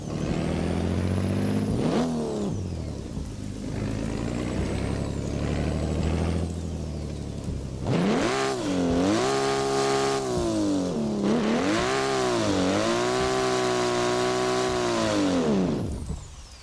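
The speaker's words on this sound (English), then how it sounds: "This is a fast car, bro. To be drifting with." A drift car's engine in the video game Assetto Corsa, loud and continuous, revving up and down repeatedly with rising and falling pitch through gear changes, alone without talk.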